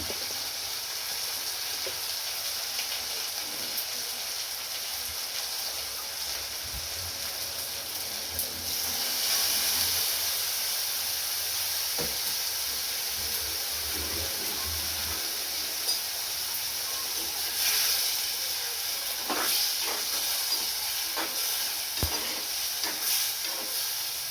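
Tamarind sizzles steadily in a pan on a stove turned low, a continuous hiss with scattered scraping and clinking as it is stirred, sharper stirring knocks near the middle and end.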